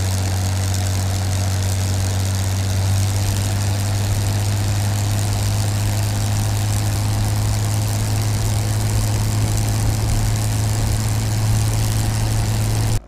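Airliner propeller engines droning at takeoff in an airplane simulator game, a loud steady low hum with a strong constant tone throughout and no speech.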